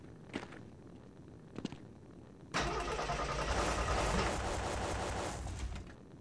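A truck engine in the They Hunger video game cranks and fails to start: two brief clicks come first, then a loud sustained grinding churn that runs for several seconds before it fades out.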